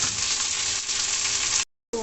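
Chopped tomato frying with already fried onion in a pan, a loud dense hiss and sizzle close up that holds steady, cuts out briefly and then resumes.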